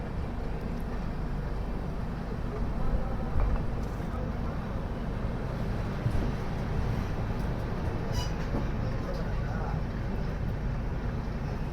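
Steady rumble of a Chennai–Bhubaneswar weekly express running in a 3rd AC coach, with continuous low-frequency rolling noise and faint voices under it throughout.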